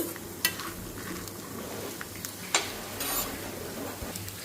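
Lentils frying in a tempering in a pan, a steady sizzle broken by a couple of sharp utensil scrapes and clinks as they are stirred, with no voices.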